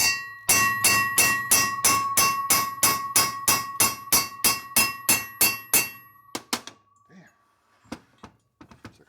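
Hammering on the top end of a 1983 Harley FXRT 80ci shovelhead engine: a steady run of about twenty loud, ringing metallic blows in even rhythm, then a few scattered lighter taps and clunks.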